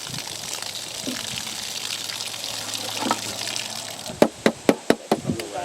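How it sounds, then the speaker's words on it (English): Water poured into a plastic jug and swished around, a steady liquid wash followed near the end by a quick run of sharp sloshing knocks against the plastic. "Let's pour a little bit of water into here and kind of swish this one out."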